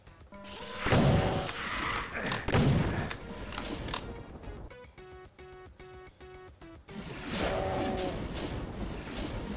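A chaingunner enemy firing in Doom 2, rapid repeated shots in bursts mixed with loud explosions, monster roars and other game effects, with no talking.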